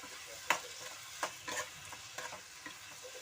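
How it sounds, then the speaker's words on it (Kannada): About 200 grams of prawns fry in oil with softened tomato, a low crackling sizzle punctuated by several sharp spoon-against-pan clacks from stirring, close up and quiet, no voices. "ಒಂದು 200 ಗ್ರಾಮು ಪ್ರಾನ್ಸ್ ಆ್ಯಡ್ ಮಾಡ್ಕೊಳ್ಳೋಣ. ಸ್ವಲ್ಪ ಫ್ರೈ ಆಗಲಿ ಇದು."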